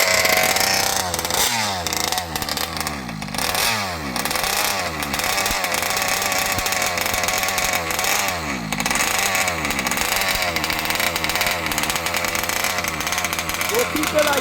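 A small ALX 71cc engine runs and revs hard, its buzzing two-stroke pitch rising and falling in repeated sweeps, loud and close for the whole stretch.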